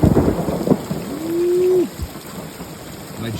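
Thunder rumbles close and loud through a storm, over a wash of heavy rain, with a brief tonal hum in the middle.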